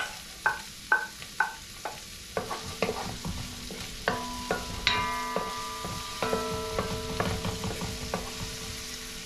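Chopped onions drop into a pan and sizzle while laing is cooked, with sharp spoon-and-pan clicks and scraping from stirring over a steady hiss that grows denser as frying continues.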